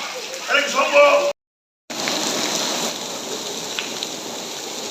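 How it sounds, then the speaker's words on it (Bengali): The year's first rain falls on potted plants, a steady broadband patter; a person speaks briefly at the start before a short gap, then the rain continues alone. "বছরের প্রথম বৃষ্টি পায়া আমি গাছগুলোর একটু বৃষ্টিতে ভিজাইলাম।"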